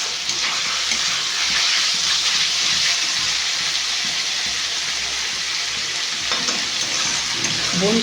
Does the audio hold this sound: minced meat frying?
yes